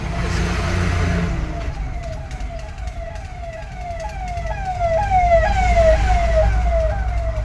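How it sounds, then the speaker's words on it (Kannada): A police escort vehicle for Amarnath pilgrims wails its siren, a rising, repeating sweep that grows louder as it approaches over steady road and engine rumble. "ತಿರ್ಗಾ ಬಂತು ಇನ್ನೊಂದು ಎಸ್ಕಾರ್ಟ್ ಗಾಡಿ"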